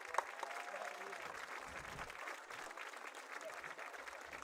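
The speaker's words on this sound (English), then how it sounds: "Give them a round of applause." Applause for a high school band after a demonstration, a continuous wash of clapping, fairly faint and distant, with some voices mixed in underneath.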